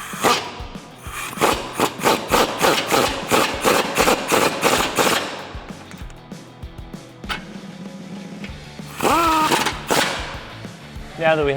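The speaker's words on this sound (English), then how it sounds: "with a couple of shots from the hammer, we'll get it seated inside the bracket" A dead blow hammer strikes repeatedly, pounding a sway bar bushing into its bracket on a Jeep Wrangler JK. The thuds come in a fast, even burst, then fall into scattered knocks and scraping, with some talk over them.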